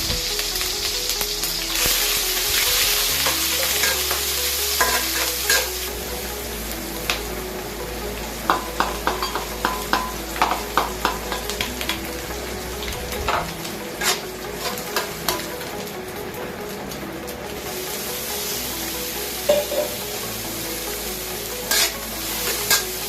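Red onion and anchovy stir-frying in a home kitchen, a continuous crackling sizzle with quick clicks and scrapes of a spatula against the pan, heavier hissing at first, then settling.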